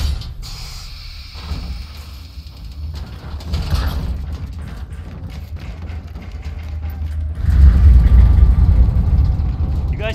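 Deep, sustained rumble aboard a space station in Call of Duty: Infinite Warfare, with creaking, grinding mechanical groans that swell midway and surge louder near the end, heard without speech.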